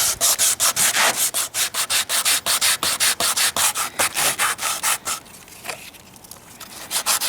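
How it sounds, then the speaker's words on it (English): Sandpaper scrubs rapidly back and forth around a roof vent pipe, a loud, close rasping in steady rhythmic strokes that slow and loosen toward the end, with no talk. "we're just going to clean up the area a little bit more with the sandpaper."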